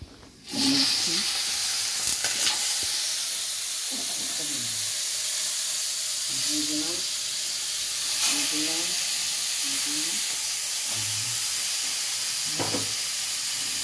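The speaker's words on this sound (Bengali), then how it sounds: "খিচুড়ি শেষ, এবার হচ্ছে মাছ ভাজা" A constant, loud sizzling hiss of hilsa fish frying in hot oil runs throughout, with faint, intermittent voices in the background.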